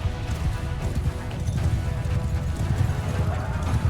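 Dense, rapid thudding of many hooves in a cavalry charge in the video game Mount and Blade II: Bannerlord, loud and continuous, with a muffled rumbling din and possible voices underneath.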